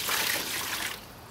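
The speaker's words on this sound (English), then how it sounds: "you're going to pour in 3 cups of white vinegar" Three cups of white vinegar poured into a bucket, a rushing splashing pour that tapers off after about a second, close and clear with no talking.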